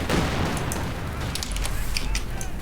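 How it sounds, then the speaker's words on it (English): Air strafe in Company of Heroes 2, a dense rattle of aircraft gunfire and impacts rolling continuously over heavy low rumble, with sharp cracks flaring near the end. "That's an air strafe."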